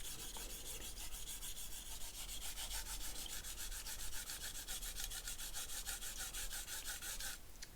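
A knife blade is drawn across sandpaper in quick, even rasping strokes, a close dry scraping rhythm that speeds up and ends with a short harsher scrape.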